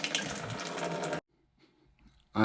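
Water rushing steadily for about a second as the back of a BMW E30 is lifted, then cutting off abruptly into near silence with faint rustles.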